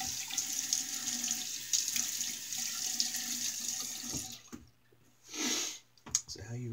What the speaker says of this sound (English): let's go ahead and wet the face and get lathering